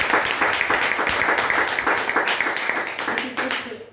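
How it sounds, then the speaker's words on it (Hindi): Applause greets first-time newcomers inside a hall, a steady, close wash of many hands clapping that runs throughout and fades out near the end. "अपने सभी जो आज पहली बार आए हैं इन साथियों के स्वागत के लिए जबरदस्त तालियां"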